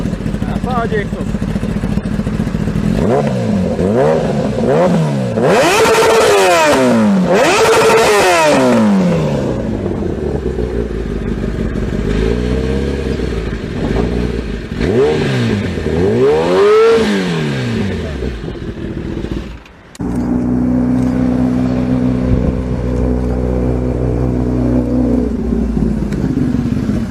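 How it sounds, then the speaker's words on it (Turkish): A 2000s inline-engine motorcycle revs hard through its exhaust, loud screaming rises and falls in repeated bursts, then settles to a lower idle as a voice speaks briefly. "Sadece egzoz."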